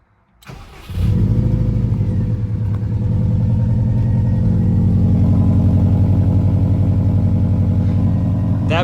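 A bugeye Subaru Impreza WRX cranks and catches, then settles into a steady, slightly rough idle with a throbbing low rumble, close and loud with no talking.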